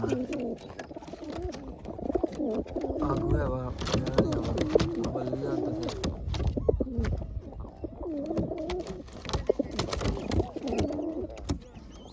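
Pigeons coo repeatedly up close, soft throaty warbling calls mixed with scattered chirps and handling noises, while someone talks over them in Gujarati.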